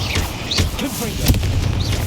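Confringo blasting spell from Hogwarts Legacy going off in a burst of explosive booms and crackling impacts, loud and dense, mixed with other spell effects and game audio.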